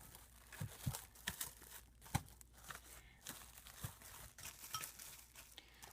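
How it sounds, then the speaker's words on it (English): Plastic saran wrap being stretched and wrapped around a fabric bowl, faint close crinkling and tearing rustles with occasional sharper snaps, quiet and steady. "you're going to saran wrap your bowl really good"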